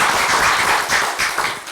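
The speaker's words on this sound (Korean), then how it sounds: "함께 박수를 함께 했으면 좋겠습니다" Steady applause from a room of people at a party press conference marking a leadership anniversary, continuous dense clapping throughout with no clear speech over it.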